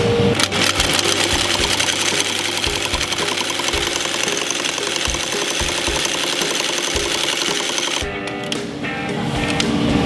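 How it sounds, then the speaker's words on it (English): A stitching machine sews two rows of outsole stitching around a men's leather boot, running as a fast, steady, close mechanical chatter that pauses briefly near the end before restarting. "And now we have to stitch it, to put the stitching around it."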